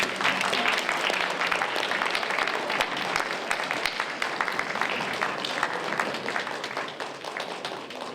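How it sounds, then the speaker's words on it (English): Audience at a piano competition awards ceremony breaks into sustained applause, many hands clapping densely and loudly, the sound gradually easing in the final seconds. "Please give them a big round of applause."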